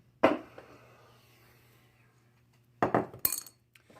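Small screws from a Hobbyking Basher BZ-888 RC car dropping into a magnetic bowl, two separate bursts of bright metallic clinks, close and fairly quiet, with near silence in between.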